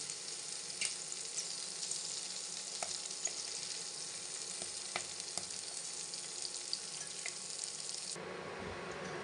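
Peas fry in oil with a continuous, even sizzle and occasional soft pops, which cut off abruptly toward the end.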